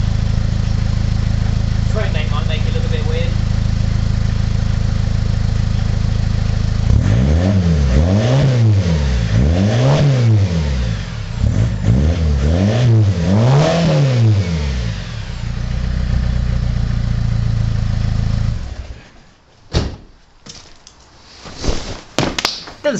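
A car engine fitted with a stainless steel exhaust idles loudly up close. It revs up and down in several sweeping blips, settles back to idle, then cuts off, followed by brief knocks and handling noises.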